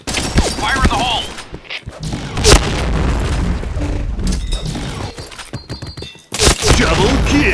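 A grenade blast in the shooter game Point Blank, loud booms mixed with bursts of rapid gunfire and crashing impacts, with game voice callouts heard between the shots.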